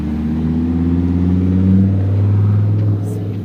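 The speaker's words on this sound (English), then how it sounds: "here comes a McLaren" A McLaren sports car drives past on a street near a beach, its engine giving a close, steady growl that swells and then fades as the car moves away.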